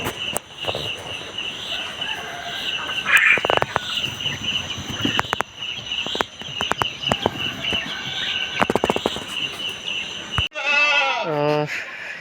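Boer goats, an improved breed from Africa, bleat at a farm amid busy livestock noise, with clucking fowl and people talking throughout, ending in a loud, close, wavering bleat.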